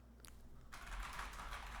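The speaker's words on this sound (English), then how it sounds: "Me typing on my keyboard." Someone types on a computer keyboard, a quiet flurry of soft clicks after a brief tap, close to the microphone and faint in the background of a conversation.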